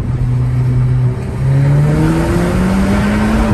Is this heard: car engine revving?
yes